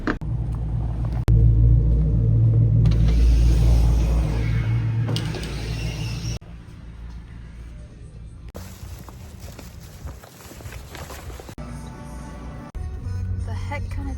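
A truck rumbles with a deep, steady low-end drone and mechanical creaks, loudest early on, then easing into a quieter, uneven rattle with shifting clatter.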